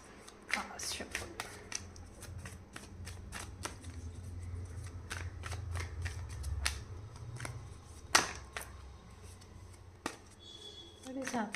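Tarot cards shuffle in quick riffling bursts and taps, close and fairly soft, with a low murmur of speech underneath.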